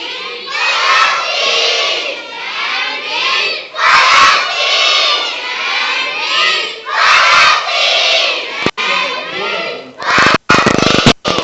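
A large group of children shouts slogans in unison in solidarity with Palestine, loud repeated chant phrases with short pauses between them, near and energetic.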